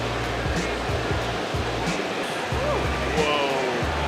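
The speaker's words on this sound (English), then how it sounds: "How this amazing laser works is you first embroider onto the material, then it laser cuts it" A laser cutting machine slices through embroidered fabric in a custom apparel shop, giving a steady rushing whoosh with faint whirring sweeps from the moving head, loud and close, no talking.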